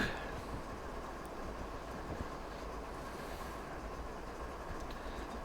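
Train running steadily in the video game Train Simulator, a continuous low rumble and rolling rail noise, faint and even throughout with no voices.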